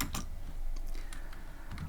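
Clacking keys on a computer keyboard while coding a Pong game in Python, a few quick close taps in an irregular cluster, with no talk.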